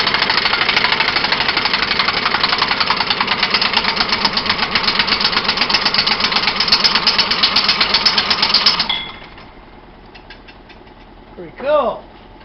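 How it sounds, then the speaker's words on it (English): A small engine spun up with a compressed-air gun gives a loud, rapid, rattling hammer-like roar for about nine seconds, then cuts off abruptly; someone speaks briefly afterward. "We're going to spin this engine up with"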